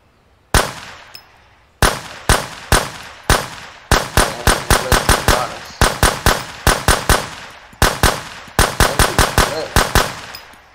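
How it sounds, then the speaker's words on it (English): Rapid gunfire at a target range in the survival shooter Road to Vostok, loud close shots in quick bursts and single rounds with short gaps between volleys, each crack trailing a brief echo. "They have targets, so you can have a little bit of target practice."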